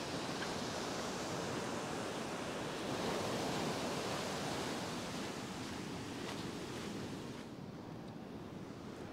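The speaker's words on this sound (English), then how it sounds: "There's a lot of white water and turbulence just there" White water and surf wash onto a fishing beach in a constant, loud roar of breaking waves, with wind buffeting the microphone and no voices.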